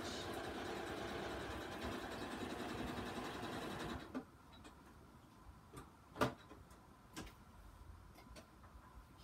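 A sewing machine runs a straight stitch through an altered playing card, whirring steadily and closely for about four seconds before stopping, followed by a few faint, scattered clicks.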